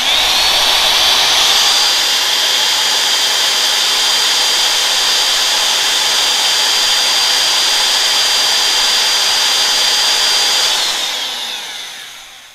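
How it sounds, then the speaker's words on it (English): An electric drill powered from a Nexpow portable power station runs as a loud, steady, high whine for about eleven seconds, then spins down quickly as it is switched off. "So I have a drill right here. Let's turn this puppy on"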